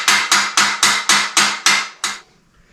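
Eight sharp metallic hammer strikes driving a roll pin on a Black and Decker Workmate 225, in a steady rhythm, close and loud, each ringing briefly before the next, then silence.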